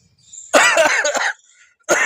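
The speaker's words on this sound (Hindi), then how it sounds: "और यहाँ से ठीक से खांसी भी नहीं ले पा रहे हैं।" Harsh, loud coughing after eating a spicy Jolo chip: a short throat-clearing burst, then a longer rasping cough fit and the start of another, close up and alone.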